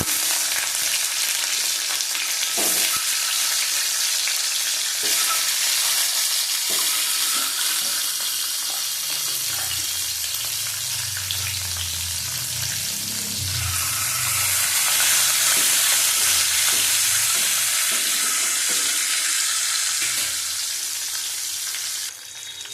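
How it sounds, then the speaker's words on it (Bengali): Boiled eggs fry in a pan with a dense, continuous sizzle up close, while scattered stirring scrapes and low bubbling rise and fall beneath the hiss. "ডিমটা ভেজে নেব।"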